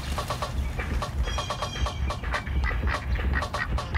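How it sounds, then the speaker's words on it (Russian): A duck quacks repeatedly outdoors in a steady run of harsh calls over a low background rumble, fairly close and loud. "О, утка закрякала."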